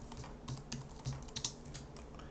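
Quiet, close clicks of a computer keyboard as text is edited, a few irregular keystrokes with soft thumps and short pauses, faint and alone.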